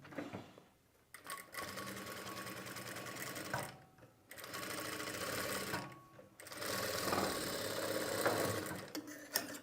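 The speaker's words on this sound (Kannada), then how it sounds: "ಹಾಕ್ಕೊಂಡ ನಂತರ ನಾರ್ಮಲ್ಲಾಗಿ ಈಗ ಸ್ಟಿಚ್ ಮಾಡಿ" Sewing machine stitching lining fabric at a neckline while tailoring, its steady motor whir running in bursts with brief pauses between runs, close and clear with no talk.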